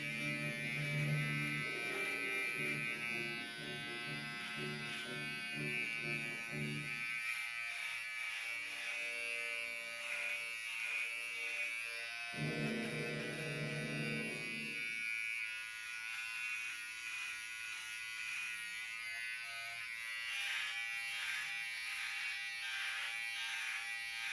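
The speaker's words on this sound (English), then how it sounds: "very little work of the razor" An electric razor buzzes steadily while trimming the edges and underside of facial hair, its tone rising and falling as it touches the beard, continuous and close with no talking.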